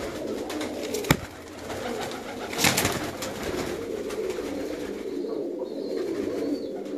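Low, soft pigeon cooing rolls on steadily nearby in a large pigeon loft in Pakistan, with a couple of sharp knocks and a faint rustle in the background. No one speaks.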